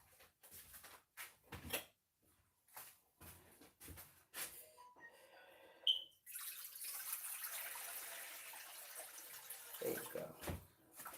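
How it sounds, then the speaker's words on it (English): Tap water runs steadily into a ZeroWater filter pitcher for several seconds after scattered kitchen clatter and a brief spoken remark. "I'm gonna put some water in here"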